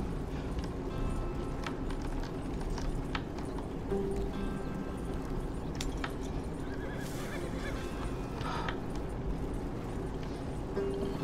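Horse hooves clip-clop steadily on a trail in Red Dead Redemption 2, a continuous riding rhythm under a dense outdoor ambience with occasional animal calls.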